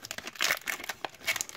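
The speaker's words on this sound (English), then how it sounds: "we got another Hoopa pack here. Rip from the front again." A Pokémon card booster pack torn open from the front, a brief close burst of crinkling foil and ripping wrapper.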